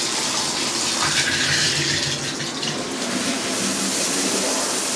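Tap water pours steadily into a bathtub in a residential bathroom, a broad continuous splashing rush close to the listener, unchanging over several seconds with no voices.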